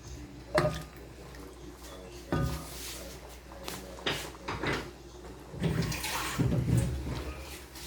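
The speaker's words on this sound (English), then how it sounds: "Just gonna add some water with that." Water is poured into a pot of Sri Lankan prawn curry with coconut milk, heard as short splashing bursts among soft kitchen clatter, fairly quiet and close.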